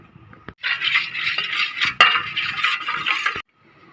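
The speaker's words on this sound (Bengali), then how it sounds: "এবার আমি মিক্সড করে নিচ্ছি 3 রকমের সসটা একসাথে করে" Three sauces, including tomato sauce and Schezwan sauce, being stirred together in a bowl with a spoon, giving a steady close scraping and clinking for about three seconds before stopping.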